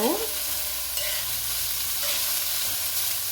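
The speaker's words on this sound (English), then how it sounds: "We'll let this fry, I would say, for maybe a minute or so" Fried rice ingredients fry in a pan for carrot and cashew fried rice, a steady, close sizzle with light stirring scrapes and no voices.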